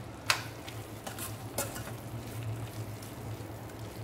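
Prawn gravy stirred in a pan, soft wet scraping with a low sizzle underneath and a few sharper knocks of the spoon against the pan, close and fairly quiet, no speech.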